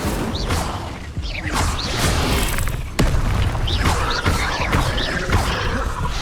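An Incendio fire spell cast in the Hogwarts Legacy video game: loud, continuous whooshing bursts of flame with rumbling booms, including a sharp surge midway through.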